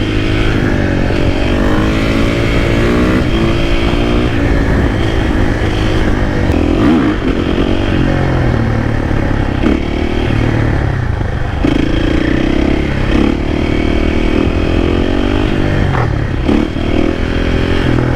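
An FS450 supermoto motorcycle revs hard and continuously while spinning donuts on a street, loud and close, with engine pitch rising and falling and some scraping clatter.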